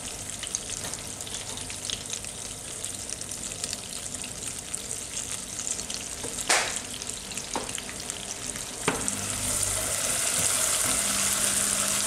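Butter melting in a pan for salted caramel gives a steady soft sizzle and frying crackle throughout, with a couple of sharp clinks partway through and the sizzle rising toward the end.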